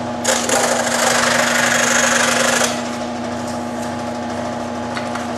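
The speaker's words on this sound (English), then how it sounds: "Cool thing about working with this foam stuff is that it cuts so easily." Foam being cut for lost foam casting riser gates with a powered cutter, a loud buzzing whine for about two seconds that then drops to a quieter steady hum.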